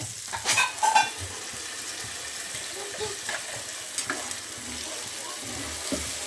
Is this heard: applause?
no